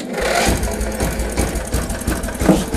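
A turbocharged lawnmower engine fires up and keeps running, a loud, steady mid-pitched drone with rapid knocking pulses and a brief throttle swell near the end.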